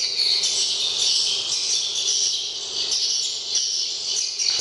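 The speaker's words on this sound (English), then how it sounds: "So they play the sound of the birds, which draws them inside." Recorded bird calls played at a nesting site to lure birds inside, a loud, continuous high chirping and trilling drone with a pulsing insect-like texture and no voices.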